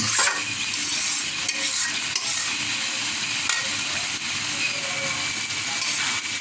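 Shrimp and drumstick stems sautéing in a pan give off a steady, dense sizzle with soft stirring scrapes throughout, close and continuous with no voices.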